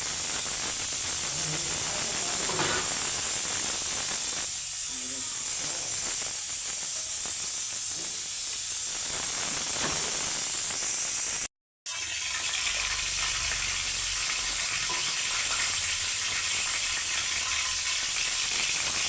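Curry leaves fry in hot oil for lemon rice, a loud, continuous hissing crackle close at hand with a brief dropout partway through, and no voices.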